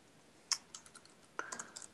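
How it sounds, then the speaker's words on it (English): Sparse keystrokes on a computer keyboard as code is entered into trading-platform scripting software: a few crisp, quiet clicks in two short bursts, with no talking. "So now we start typing in stochastics"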